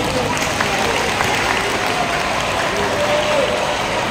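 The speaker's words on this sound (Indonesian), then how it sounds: "Tepuk tangan dong." A large crowd of junior high school students in Cilincing, North Jakarta, applauds steadily at a public speaking session, a dense continuous wash of clapping with voices mixed in.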